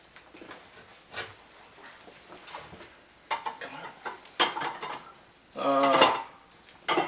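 A small bowl is picked up and handled in a kitchen while a squirrel is being cleaned, with scattered clinks and dish clatter building to a louder rattling burst near the end.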